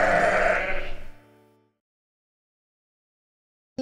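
A single drawn-out cartoon sheep bleat from a children's nursery rhyme song rings out loud and fades over about a second and a half, followed by silence and a brief sound cut off at the very end.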